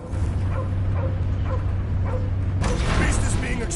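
A dog in the Guardians of the Galaxy video game barking and yipping in short repeated bursts, with whimpers, then a sudden loud burst of action noise, game voices speaking throughout.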